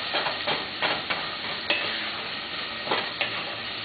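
Garlic sizzling in a pan for creamy pumpkin soup, a continuous close hiss of frying broken by several light stirring scrapes, with no talking.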